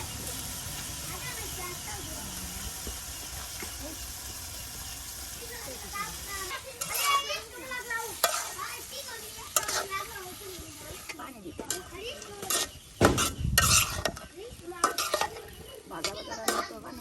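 Chopped potatoes go into spiced dried fish in a pan, with clanking utensil scrapes and stirring against the pan, some soft sizzling beneath, and voices talking over the cooking.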